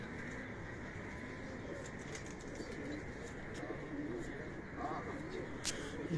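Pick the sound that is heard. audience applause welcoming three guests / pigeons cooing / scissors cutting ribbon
pigeons cooing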